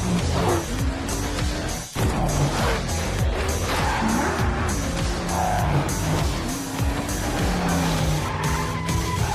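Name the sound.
Ford Mustang car skidding in Fortnite video game trailer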